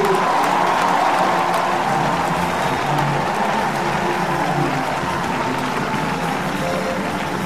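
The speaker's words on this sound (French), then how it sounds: "Acclamons la parole de Dieu." A church congregation claps together in a steady, dense wash of applause that fills the whole stretch evenly, with a faint murmur of the crowd beneath.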